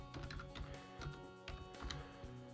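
Quiet, quick keystrokes on a computer keyboard as a virtual machine name is typed, a light irregular clatter of short taps close by with no talking.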